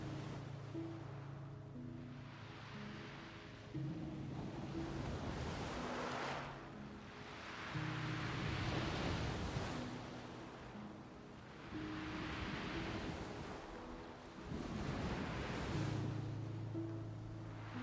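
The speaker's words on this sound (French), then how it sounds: "vous entendez le doux flux et reflux des vagues au loin." Soft ocean waves wash in and recede on a quiet seashore, swelling and fading in slow rhythmic surges every few seconds, distant and gentle over a low steady tone.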